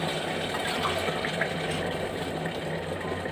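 Water is poured steadily into a pot while cooking vegetable pulao, a continuous close gushing and splashing that fills the whole stretch at even loudness.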